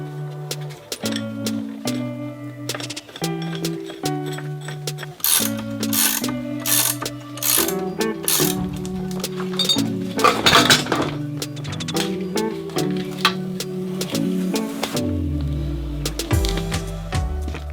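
A spring compressor squeezes a coil spring, with metallic clinks, ratcheting clicks and tonal creaks from the tool, close up and irregular with scattered sharp knocks and no talk.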